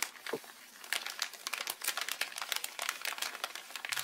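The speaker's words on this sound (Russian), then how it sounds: "Мне надо открыть, посмотреть, что там такое шуршит." Soft padded parcel being opened by hand, with close, continuous crinkling and rustling of plastic wrapping in quick irregular bursts, no voices.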